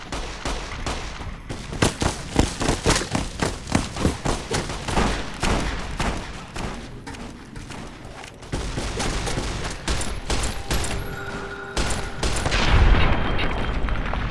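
Gunfire in the video game Fallout New Vegas: rapid loud bursts of shots and booms in quick succession, close and dense, with no voices.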